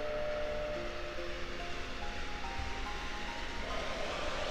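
A train in the Final Fantasy VII video game rumbles steadily with a low continuous roar and faint tonal whine, with no one speaking.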